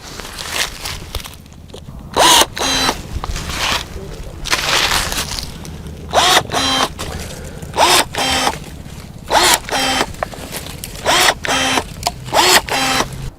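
DeWALT 20V Max cordless pruner snipping a soft, pithy woody plant, giving a string of sharp, close clicking cuts and short motor whirs in an irregular rhythm.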